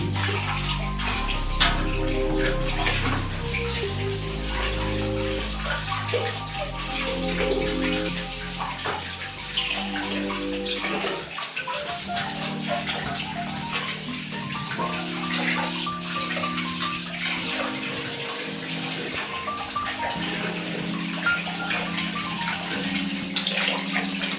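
Water runs and splashes steadily while air conditioner parts are washed at home, a continuous close wash with a shift in flow partway through and no talk.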